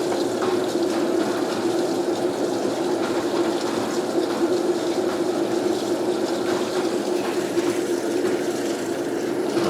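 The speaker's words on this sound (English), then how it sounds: "Now it's adding the wash water." Water pours and rushes steadily into a washing machine with detergent already mixed in, a constant churning flow with a low hum beneath it.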